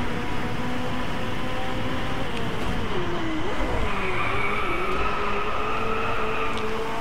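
A McLaren 570S in the Driveclub racing game revs steadily with a loud, continuous engine drone, pitch rising and dipping through gear changes, with faint tire skid noise mixed in and no talking.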